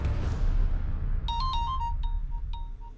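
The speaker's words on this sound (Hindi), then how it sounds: "पापा आपका फोन बज रहा है।" A mobile phone ringtone plays a light, repeating melodic chime in a home, fairly faint under low room rumble.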